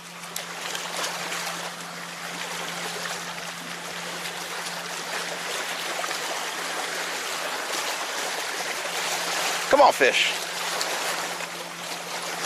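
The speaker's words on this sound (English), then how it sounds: "These waves kind of like distracted me a little bit." Waves wash along an island shore at sunset in a steady, rushing hiss, with a low constant hum underneath, a brief clatter near the end, and someone talking over it.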